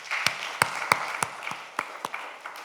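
A church congregation gives a round of applause during a Sunday worship service, a moderate spread of clapping with distinct sharp hand claps punctuating a softer steady patter.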